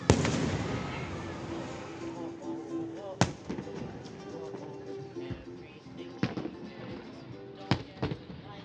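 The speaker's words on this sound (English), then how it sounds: "Well, fireworks are starting." Fireworks go off in the distance at a public celebration, a rumbling stream of pops with several sharper, louder bangs punctuating it, while people talk nearby.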